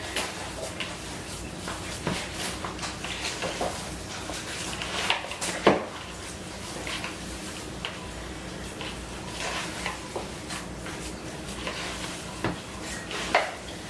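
Ground pork and beef being mixed by hand for meatballs, a soft, irregular squishing and slapping of raw meat with occasional clicks of a bowl, close and moderately quiet, with no talking.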